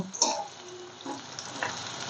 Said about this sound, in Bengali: পেঁয়াজটা ভালো করে ভাজা হচ্ছে